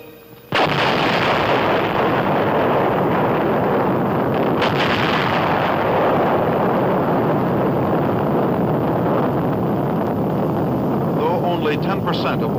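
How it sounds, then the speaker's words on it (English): A deep, sustained rumbling roar of a nuclear explosion 7 miles away erupts suddenly and rolls on for many seconds, heavy and booming like a distant massive blast. "Within 30 seconds will come the thunderous roar of the explosion 7 miles away."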